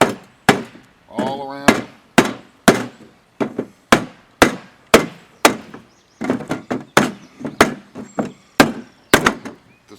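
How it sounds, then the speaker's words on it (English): Sheet metal roofing driven into place with a hammer while building a wood-fired oven, a long series of sharp, close blows in uneven bursts, some in quick pairs, with a brief bit of speech early on. "just drive this piece of roofing sheet metal in"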